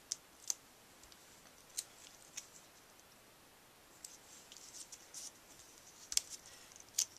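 Small scissors snipping a dimensional adhesive strip for a paper butterfly notecard, giving a few sharp, quiet clicks spaced irregularly over a soft background.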